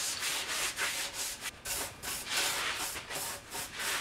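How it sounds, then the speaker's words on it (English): An alcohol-soaked tack cloth wiped across sanded wood on a boat's shaft log gives rhythmic back-and-forth rubbing strokes, about a dozen close, loud swishes in quick succession with no talking. "Just using some alcohol as a tack cloth."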